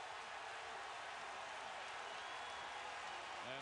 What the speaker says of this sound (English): The crowd excited as LeBron picks up his second foul.